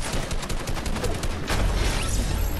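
A heavy sniper rifle in a video game fires amid a dense barrage of rapid gunfire, one heavier booming shot standing out about midway through the chaotic, loud exchange.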